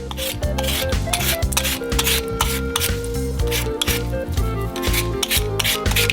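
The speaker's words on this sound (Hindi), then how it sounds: "प्रत्येक आलू को गंद से साफ करेंगे" Peeled potatoes scrubbed clean in water in a kitchen sink, a steady close rubbing and rasping with repeated strokes, over a rhythmic low thumping that runs throughout, no speech.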